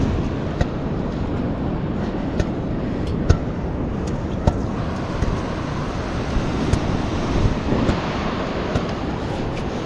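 Heavy surf breaking on a steep beach at low tide while digging for razor clams, a steady broadband roar with wind and scattered short knocks and thumps on top, no voices.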